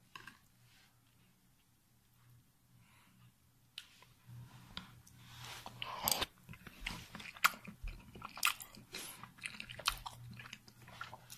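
Japanese imperial navy curry mixed with rice being eaten: quiet at first, then close, faint chewing and soft crunching bites with irregular clicks over a low steady hum.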